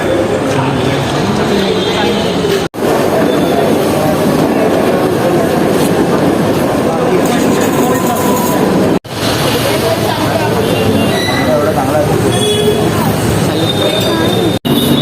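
Train noise at Chinchpokli railway station in Mumbai, a steady loud rumble with rail clatter filling the scene throughout, with brief breaks, and people talking over it.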